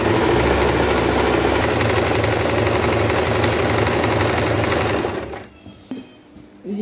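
A sewing machine stitching a petticoat runs as a loud, steady, rapid mechanical whirr close by, then slows and stops near the end, leaving brief quiet handling noises.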